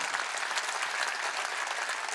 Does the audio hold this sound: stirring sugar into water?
no